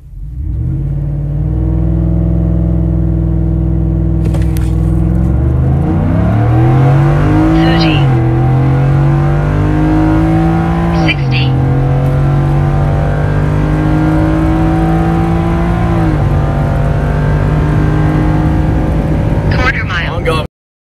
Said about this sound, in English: This is a stock tune F150 extended cab 4x4 in 4-wheel drive.